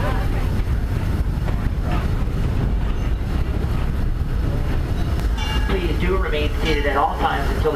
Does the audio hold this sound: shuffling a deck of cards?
no